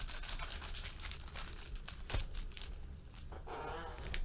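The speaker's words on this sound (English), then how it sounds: "I'm just going to shuffle these packs up a little." Sealed 2016 Upper Deck Marvel Masterpieces trading card packs being shuffled by hand, giving faint, continuous crinkly foil rustling with soft papery scrapes at close range.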